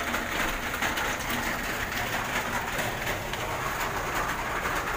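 Steady rain hiss with faint bird sounds as pigeons bathe in the rain outdoors, a continuous broadband wash of moderate loudness throughout with no talking.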